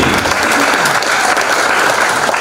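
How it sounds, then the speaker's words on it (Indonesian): Applause at an Indonesian Christian church ceremony in Jakarta, with an audience clapping steadily and densely throughout, close and loud, with no pauses. "Tepuk tangan untuk BKST."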